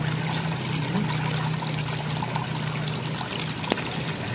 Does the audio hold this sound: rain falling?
yes